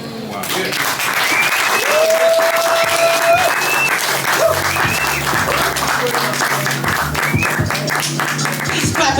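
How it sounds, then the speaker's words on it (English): Sustained audience applause for a slam poet at a poetry slam, loud and dense throughout, with cheers and whoops rising above the clapping. "Please clap it up for that poet doing a poem"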